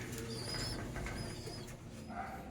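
Pigeons in an aviary give soft low coos over a busy background, with brief higher calls from other birds.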